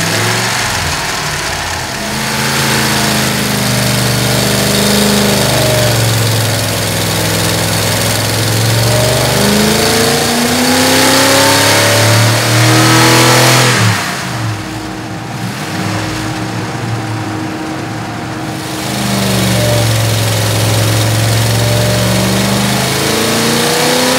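A Ford Y-block V8 engine on a dyno revs hard and loud again and again, its pitch rising and falling through long pulls, with a brief quieter idle in the middle.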